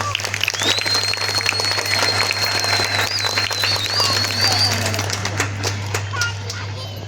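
An audience claps continuously through a live stage performance about Chhatrapati Shivaji Maharaj, the dense patter of applause filling the space while voices talk over it.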